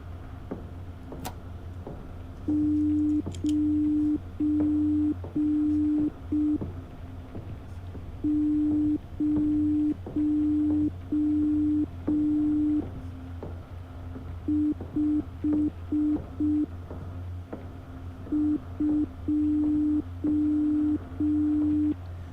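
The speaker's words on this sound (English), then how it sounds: "So I got a pen and paper here just to get the Morse code done." A steady electronic tone beeps Morse code in the Obey The Voice video game, sounding in short and long pulses grouped into sequences with pauses between them, over a low background hum.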